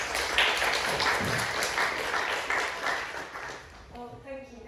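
Audience applause welcoming a speaker at a talk, a burst of clapping that swells then fades over a few seconds before a voice begins.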